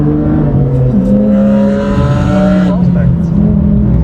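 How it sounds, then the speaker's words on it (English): A sporty budget car's engine revs up and down through downshifts, a loud, continuous drone with rising and falling pitch sweeps, close by inside the cabin. "Look at you and your fancy downshifting."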